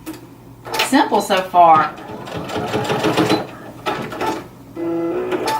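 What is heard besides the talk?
sewing machine tacking down fabric basket corner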